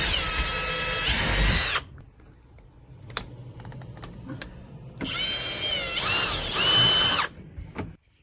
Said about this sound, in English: I'm gonna pre-drill some holes first